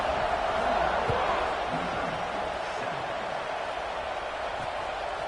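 A stadium crowd roars steadily before kickoff in a college football video game, a dense, loud, continuous wash of cheering with faint thumps beneath it.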